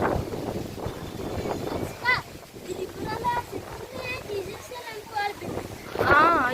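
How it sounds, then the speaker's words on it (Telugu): Strong wind tossing trees across a village, a rough, gusting rumble with buffeting on the microphone that swells and eases while a person talks over it, with a voice also briefly present. "చూడండి ఈ అమ్మ చెట్లు అయితే మరి మామూలు కొట్టుకోవట్లేదు, చాలా గాలి"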